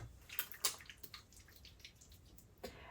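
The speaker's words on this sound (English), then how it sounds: "let me add a little bit more water." Water is trickled into a brown sugar scrub mixture, giving a few small splashes and drips close by, scattered over a quiet background with no talking.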